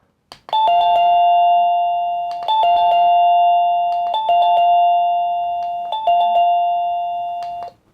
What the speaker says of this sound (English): And then right over here, we're going to have different Chime noises.